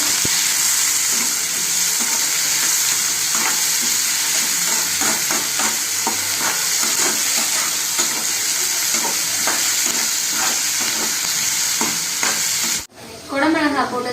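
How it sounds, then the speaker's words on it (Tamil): Capsicum and tomato sauté in a hot pan with a steady close sizzle, broken by repeated scraping stir strokes. Near the end a brief cut brings a different, quieter sound. "இந்த குடமிளகாயும் வதங்கும் போது தக்காளியும் கரெக்டாக வதங்கிடும்"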